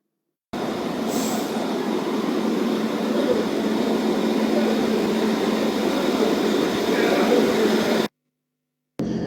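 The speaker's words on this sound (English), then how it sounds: "it's the first time we are running the passenger service train from Tema to Afienya" A passenger train running between Tema and Afienya stations gives a steady, loud rumble of wheels on rails with a faint squeal. It is heard from on board and continues for about eight seconds before cutting off.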